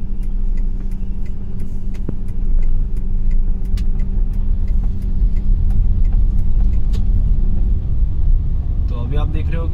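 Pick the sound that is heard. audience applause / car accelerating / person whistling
car accelerating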